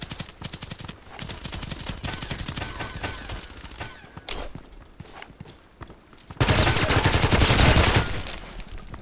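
Weapon gunfire in a video game, repeated rapid shots in bursts that grow louder and denser near the end, with scattered footsteps between volleys.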